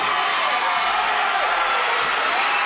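Wrestling crowd chanting for Ricky Rickard at a 1969-1983 NWA Australia-New Zealand bout, a steady dense roar of massed voices filling the whole stretch, loud and close.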